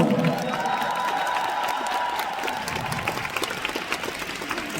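A concert audience applauds in a big hall, a sustained wash of clapping and light cheering that holds steady and swells slightly at the end.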